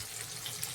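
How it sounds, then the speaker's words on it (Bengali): Potatoes fry in a pan, a steady, soft hiss and sizzle, continuous and fairly quiet, with no voices. "এখানে আলু ভাজতে দিয়েছি"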